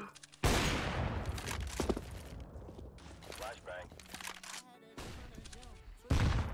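Explosions and gunfire in the video game CS:GO, including a grenade blast, with a loud burst near the start followed by scattered shots and another hit near the end, with voices talking over parts of it.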